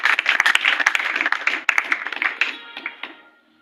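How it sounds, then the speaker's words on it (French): Church congregation clapping hard and steadily for several seconds, dense overlapping claps that thin out and fade at the end. "Applaudis d'abord fortement pour la gloire de Dieu"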